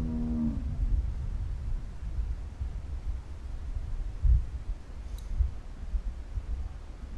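A cow in a barn gives a short low moo near the start of a Walking Dead video game scene, followed by quiet room tone with faint thuds.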